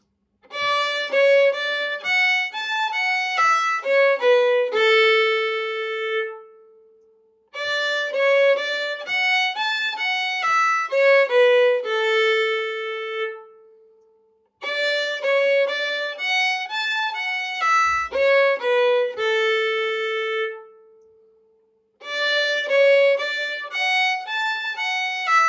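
Melodic phrase from part B of the jig First Judy Calahan, played on a single sustained instrument and repeated four times, each run of lively notes ending on a held low tone, with short gaps between the repeats.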